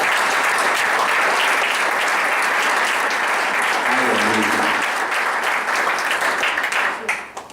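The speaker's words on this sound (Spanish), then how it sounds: "Ofrenda de aplausos a Él," A church congregation applauds as an offering to God during a sermon, steady full applause holding for several seconds before thinning out at the end, with some voices mixed in.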